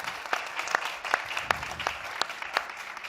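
A small conference audience claps sparsely as a deputy director general is welcomed onto a panel stage; distinct individual claps land at a steady, unhurried pace rather than a full roar.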